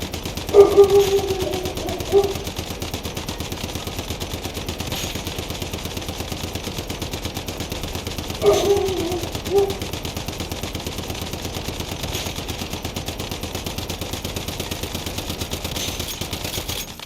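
A SCAR rifle firing in the survival shooter Once Human, two short bursts of rapid shots several seconds apart, each followed by a separate single shot, set against a steady low background of game ambience.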